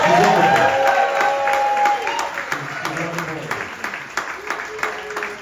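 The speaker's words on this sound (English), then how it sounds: "You can clap for her" Comedy club audience clapping and cheering as a performer speaks, with a crowd swell early that tapers into scattered claps under a voice.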